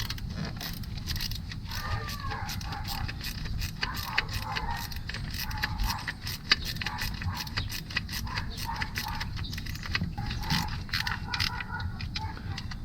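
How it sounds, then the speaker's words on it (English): A 10mm wrench ratchets on small bolts of a 2014 Acadia 3.6L timing chain job, a rapid run of light metallic clicks and clinks close up, continuous and fairly quiet. "we will need a wrench with my 10mm to get those little bolts down."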